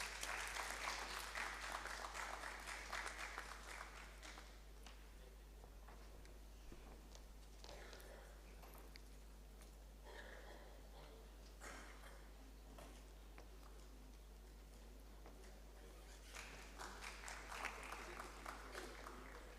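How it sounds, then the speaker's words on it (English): Audience applause at an academic research summit shield ceremony, sustained many-handed clapping across the hall, heaviest at the start, easing slightly in the middle and swelling again near the end, heard at a distance with a low steady hum beneath. "Can we have a round of applause,"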